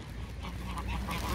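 Ducks on a pond being thrown bread, a short burst of quacking and honking calls clustered close together over a low steady background, no voices.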